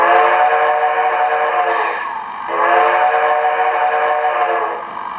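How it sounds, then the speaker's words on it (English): A Southern Pacific 6-chime freight whistle sounds from the sound decoder of an O scale AC-12 model locomotive. It gives two long, loud, chordal blasts separated by a short dip, with no talking. "The whistle is the actual Southern Pacific 6-chime freight whistle on the Tsunami AC-12 decoder."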